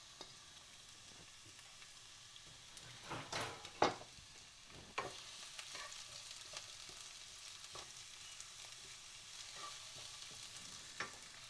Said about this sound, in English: you can hear that beautiful sizzle as they're going in